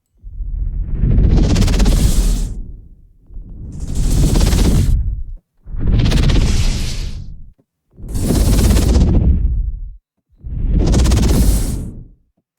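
Five synthesized whooshes made with granular synthesis swell and fade in turn, each about two seconds long with short silent gaps between, loud and airy with a grainy, glitchy texture.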